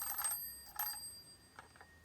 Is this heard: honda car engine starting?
no